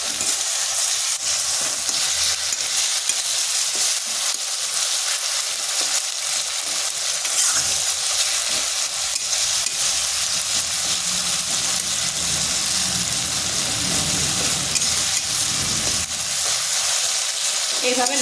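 Tomato spice masala frying in a kadai, a loud continuous hiss and sizzle close up, with occasional stirring scrapes and a faint low hum underneath, steady for the whole stretch and no voice over it.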